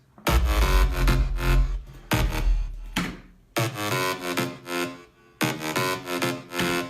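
Dry synth bass line in FL Studio with the flanger's wet mix turned down, from a track; four loud phrases separated by brief gaps, plain and unswept, with no talking.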